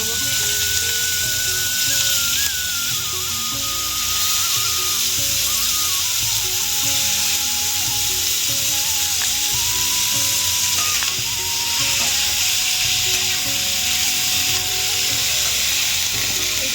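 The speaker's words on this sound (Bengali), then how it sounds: "মাছ ভাজা তেলেই ফুলকপি ভেজে" Cauliflower frying in oil previously used to fry fish, a steady loud sizzle filling the whole stretch with occasional stirring and scraping in the pan, no voices.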